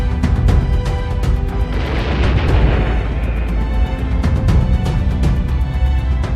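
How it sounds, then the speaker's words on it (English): Multi-barrel rocket launcher firing in a continuous loud barrage, a dense roar of overlapping blasts and sharp cracks lasting throughout, with a rushing swell in the middle. "You also get to work with multi-barrel rocket launchers"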